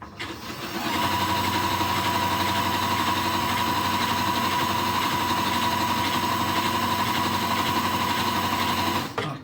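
A serger overlocking a blind hem runs in a steady, loud mechanical whir that picks up speed after a brief start, holding a constant motor drone nearly the whole time before cutting off at the end.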